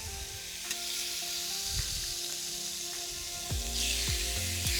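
Steady, close sizzling of kale frying on a hot grill pan, a continuous crackling hiss with occasional clunks of utensils.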